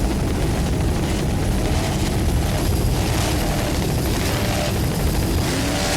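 Racing powerboat engines roaring under throttle during an offshore powerboat race at Corpus Christi, Texas, a dense loud continuous rumble with wind-like noise and no talk.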